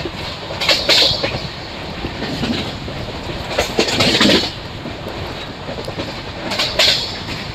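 The 12805 Janmabhoomi Superfast Express runs between Nadikude and Secunderabad with a continuous rolling clatter from its wheels, broken by several louder rushes of hiss and rattle.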